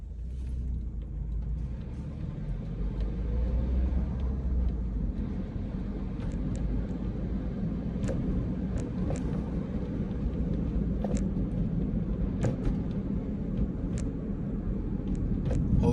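Car driving along State Line street past shops and an apartment building, a steady low road rumble with passing traffic noise continuing throughout, moderately loud and close, with no talking.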